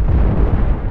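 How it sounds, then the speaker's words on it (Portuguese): High-caliber cannon fire slams into a ship in the space combat game Cosmoteer, producing a loud, dense burst of booming explosions that lasts under a second. "Os canhões de altíssimo calibre conseguem chegar ali"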